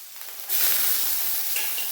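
Chopped garlic and shallots dropped into hot oil for a Kerala prawn roast, a quiet hiss that jumps into a loud bright sizzle as they hit the pan, then holds steady.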